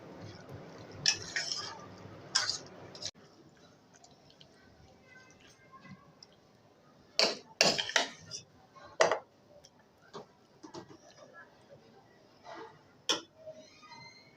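Black chana chaat being stirred in a dish gives a few soft clinks and ticks of a spoon against the bowl, with brief quiet gaps between strokes and a faint room hum.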